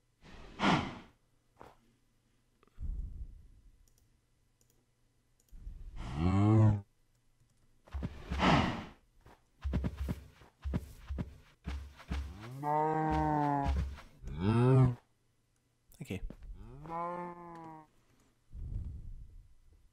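Cows mooing in the video game Minecraft, several separate low drawn-out moos spread across the stretch with quiet gaps between them, loud and close, with no talk over them.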